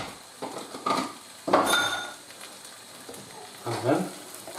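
Tomatoes sizzling in a hot pan for chicken tikka masala, a few bursts of frying hiss with light clatter of a utensil against the pan, close and moderately loud, separated by quieter stretches.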